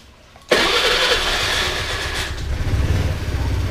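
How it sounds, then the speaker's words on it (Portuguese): A fuel-injected Honda Lead scooter-type motorcycle starts with an abrupt burst of the starter and engine catching, then settles into a steady, close idle with a mid-range rumble and no talk. "Vamos estar ligando a moto aqui agora"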